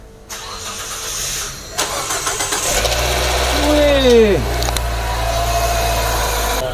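A car engine just back from an overhaul cranks with a rising starter whine, catches and settles into a steady, close idle; someone speaks briefly during the start.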